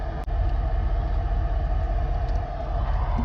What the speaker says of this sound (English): Oh, I like how that car sounds.